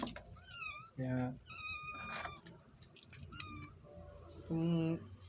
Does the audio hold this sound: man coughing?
no